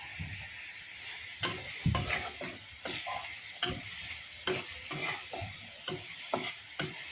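Onions fry in a pan with a continuous soft sizzle broken by regular scraping stirs of a utensil, close and fairly quiet, with no voices.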